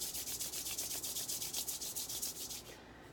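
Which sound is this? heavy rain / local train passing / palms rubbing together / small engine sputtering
palms rubbing together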